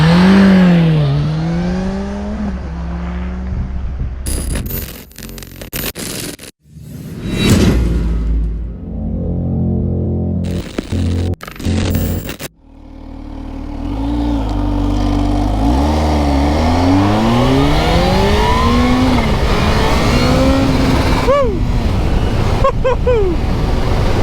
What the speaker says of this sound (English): I'm out riding on my Kawasaki ZH2